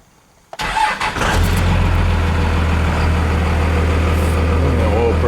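A second-generation Cummins diesel pickup cranks over and fires up, catching after a brief starter whir and settling into a loud, steady low diesel idle heard up close.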